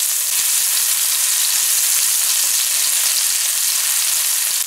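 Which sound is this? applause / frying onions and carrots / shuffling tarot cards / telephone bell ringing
frying onions and carrots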